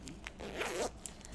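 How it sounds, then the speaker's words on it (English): Zipper on the back of a leather-feel men's fanny pack slid open in one continuous rasping pull, close and fairly quiet, with soft handling noise before and after. "it's got a zipper on the back side so that they could keep things here on the outside."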